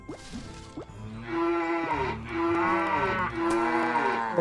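Cow in the farming game Farmville 2 lowing in three long, loud moos in close succession, each a drawn-out tonal call, preceded by some brief clattering.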